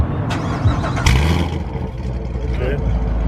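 Mopar car at a car meet starting up and revving, a loud broadband engine roar with surges near one second and again toward the end, mixed with people talking close by.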